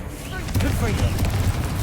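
Confringo fire spell from Hogwarts Legacy going off as a loud crackling, booming burst that swells and rolls on for about a second before thinning out.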